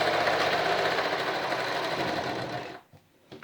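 A Brother XL 3010 free arm sewing machine runs steadily in reverse stitch, giving a close, even mechanical whir with rapid needle chatter that stops abruptly near the end, followed by a few faint clicks.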